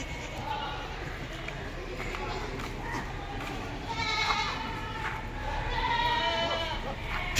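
Goats bleat at a crowded livestock market, several wavering cries rising out of a steady din of chatter and crowd noise, with the loudest calls toward the middle and end.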